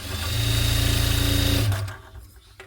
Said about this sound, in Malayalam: ഒന്ന് സ്ട്രെയിറ്റ് ആയിട്ട് ആ ഒരു ഭാഗം സ്റ്റിച്ച് ചെയ്തെടുക്കുക ഈ സൈഡും അതുപോലെ തന്നെ പത്തിഞ്ച് മാർക്ക് ചെയ്തിട്ട് തയ്ക്കുക